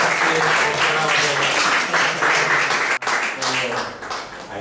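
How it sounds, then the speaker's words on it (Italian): An audience in Ischia breaks into applause, a dense, steady wash of clapping that holds for several seconds while a voice speaks over it. "Un applauso per quelli che hanno."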